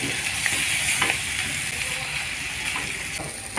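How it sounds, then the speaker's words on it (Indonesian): Noodles frying with wilted mustard greens in a pan, a steady loud sizzle and hiss with faint scraping of stirring, close up and continuous throughout. "Kita masukkan mie terakhir, kita aduk."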